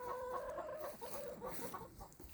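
Chickens cluck in a homestead chicken coop, a few faint, short, throaty calls heard up close over quiet background.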